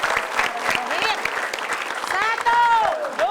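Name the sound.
studio audience applause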